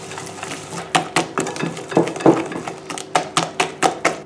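Eggs and sugar being mixed in a mixing bowl for a chocolate-apple cake batter, with quick rhythmic clinks and scrapes of a utensil against the bowl, close and fairly loud.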